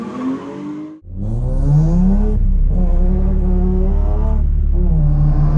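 A drift car at Driftland track holds a loud, sustained engine note on throttle, pitch climbing and wavering through the slide after a brief cut, close and dominant with no voices.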